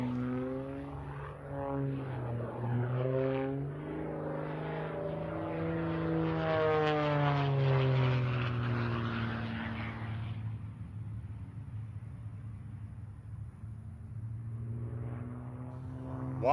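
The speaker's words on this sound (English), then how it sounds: "He's going to go vertical and basically hang this plane there in a hover." Rob Holland's aerobatic propeller plane performs at an airshow, its engine droning loud and steady. The pitch sweeps up and down as the plane climbs vertically into a hanging hover, then fades lower before swelling again.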